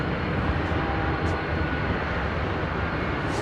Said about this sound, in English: Pacific cargo 747 on approach.